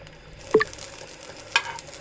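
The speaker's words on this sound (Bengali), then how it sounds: "এখন একটু লাল করে রসুনটা আর হচ্ছে মরিচটা ভেজে নিব" Garlic and chillies fry in a pan with a quiet, low sizzle, broken by two brief scrapes of a spatula stirring.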